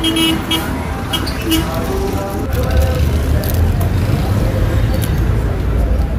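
Street traffic with passing vehicles, probably jeepneys, and several short horn toots over a steady roadway rumble, with voices talking nearby.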